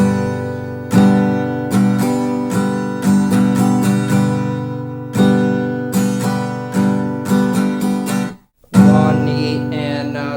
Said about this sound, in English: The strumming pattern altogether would sound something like this.